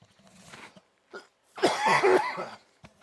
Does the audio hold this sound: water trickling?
no